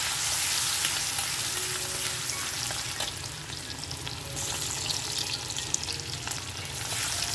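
Spices and soaked chana dal fry in hot oil, a steady bright sizzle with occasional stirring scrapes, close up and continuous throughout.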